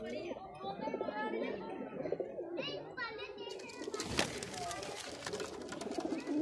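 Pigeons kept on a rooftop coo softly in the background while someone talks over them throughout; a brief rustling burst is heard near the middle.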